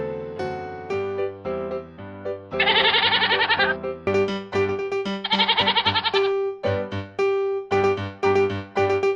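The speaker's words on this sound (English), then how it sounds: "Goat." A goat bleats over and over, loud and close, its wavering, quavering cries coming in quick succession with a few brief pauses between calls.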